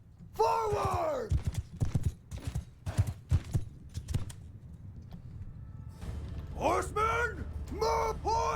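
Cavalry hooves clatter in a Bannerlord medieval battle, a dense, close run of clip-clops with heavy thuds, joined later by loud horse whinnies and neighs over a low rumble of the battlefield.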